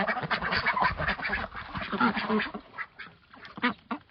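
Several ducks quacking close by in busy, overlapping bursts while being fed chopped feed, with some scuffling and shuffling sounds underneath.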